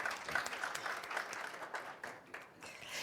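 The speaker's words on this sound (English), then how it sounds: "Please give a round of applause for everyone." Moderate audience applause at a women's summit, a brief burst of many hands that swells and eases in waves, tapering off near the end.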